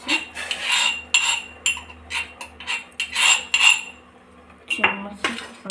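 A spoon clinks against a metal pot while red tea is being made, a string of sharp, close metallic taps and scrapes in irregular clusters with brief pauses between them.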